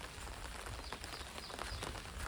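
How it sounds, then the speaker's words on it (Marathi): Early-morning rain falls steadily in cool weather, a dense, even patter of drops on surfaces filling the whole stretch without a break, moderate in level with no voices. "सावकाश जोर वाढवते पाऊस"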